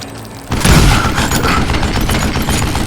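Gunfire in the Western shooter Call of Juarez Gunslinger: a loud burst of shots and booming blasts begins abruptly after a quiet moment, then continues as dense, rapid gunfire crackling on to the end.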